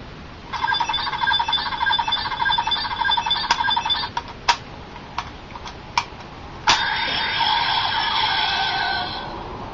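Power Rangers Dino Thunder morpher toy giving a buzzy, electronic beeping sound effect, followed by several sharp clicks and a second sustained electronic tone, small and tinny with a hiss in the background.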